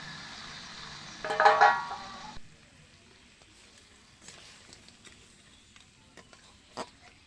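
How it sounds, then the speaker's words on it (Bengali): Marinated field crabs drop into a hot dry wok with a brief loud sizzle and clatter, then the frying settles to a faint crackle with scattered small pops, no talk. "উনুনে কড়া বসিয়ে দিয়েছি, আর কড়া গরম হয়ে গেছে। এখন দিয়ে দিচ্ছি মেখে রাখা কাঁকড়া।"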